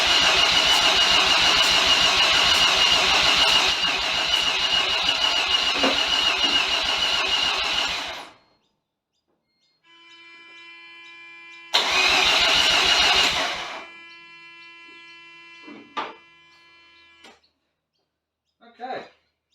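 A Mazda RX7 rotary engine cranks loudly for several seconds and then cuts out, followed by a second shorter cranking burst, with a sharp click and brief clanks afterward in otherwise quiet surroundings.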